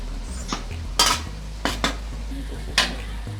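Spice paste stir-fried in a pan for aloo dum, sharp metallic scrapes and knocks of a spatula against the pan at irregular intervals over a low steady hum, close by.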